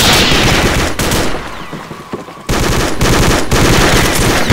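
Rapid, loud automatic AK-47 rifle fire in a video game, one sustained burst, a short quieter lull, then another long continuous stream of shots, close and dense.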